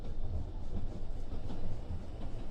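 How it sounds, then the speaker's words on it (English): A steam train runs steadily along the track, producing a continuous rumbling, rolling rail noise at moderate level with faint rhythmic clatter and no talking. "you can see the iconic steam engine leading the way"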